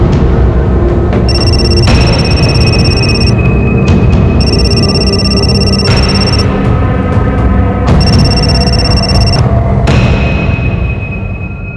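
A telephone rings loudly in repeated bursts, its bright electronic trill starting and stopping several times over a dense, busy background.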